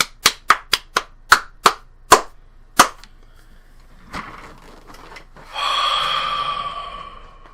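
Video game baseball scene: a string of sharp single claps rings out at a steady pace, then after a short lull a burst of dense crowd applause swells and holds to the end, with no talking.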